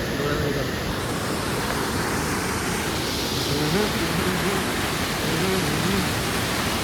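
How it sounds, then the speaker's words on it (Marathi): A waterfall near the Malganga temple gives a steady, dense roar throughout, while people talk over it at moments. "धबधबा रे"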